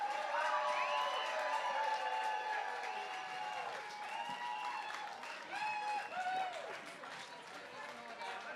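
A crowd applauds at the Clipper 2019-20 round-the-world yacht race finale at Royal Albert Dock, London, the clapping steady and dense throughout, with cheering and an announcer's voice over the top.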